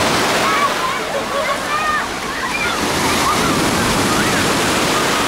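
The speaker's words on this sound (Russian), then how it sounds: "иногда проскакивают довольно-таки высокие волны." Sea waves wash onto a busy beach in Oba, Alanya, in a loud, steady surf roar, with faint voices of distant beachgoers mixed in.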